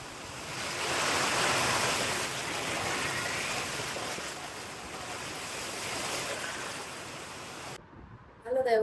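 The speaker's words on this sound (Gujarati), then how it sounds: "ફૂલ વરસાદ હો બાકી" Heavy downpour of rain in Rajkot, a dense steady roar of falling water close by that holds for most of the clip before cutting off abruptly near the end.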